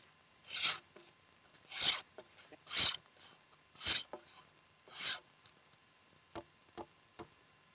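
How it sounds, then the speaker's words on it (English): Hand planing of a wooden floor in a traditional Finnish log house: about six rhythmic rasping strokes, each a short scraping swish at moderate distance, followed by a few light knocks, with no voices. "The floor is finished by planing it smooth."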